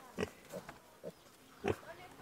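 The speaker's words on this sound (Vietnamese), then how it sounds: "Một con lợn trắng này." A white pig on a small farm pen gives several short grunts spaced apart, fairly close and moderate in level, with a little background noise.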